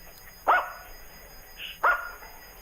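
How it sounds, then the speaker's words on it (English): Two separate dog barks, each a sharp close bark with a brief tail, spaced about a second and a half apart over a quiet indoor background. "My dogs are taking over this show."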